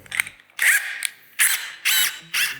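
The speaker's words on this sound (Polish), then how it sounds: "zmieniam teraz koronkę we wkrętarce na tą z prowadzeniem" A cordless drill's chuck being loosened and tightened to swap in a hole saw bit, heard as four short close ratcheting whirs separated by brief pauses.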